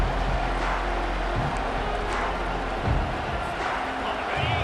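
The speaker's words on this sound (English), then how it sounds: "This crowd bringing an ear-splitting welcome to their visitors." Stadium crowd in the College Football 25 video game gives off a loud, steady roar that fills the whole stretch, with indistinct voices rising now and then.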